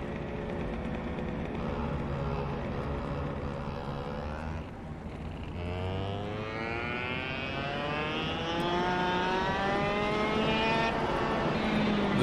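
A go-kart engine in the KartKraft racing sim, loud and close, buzzing high as it revs and climbs through acceleration, with a brief dip before pitch rises steadily again.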